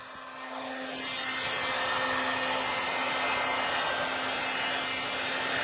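A heat tool blows a steady loud rush of hot air over craft grit paste, rising quickly after a second and then holding constant up close, with no talking.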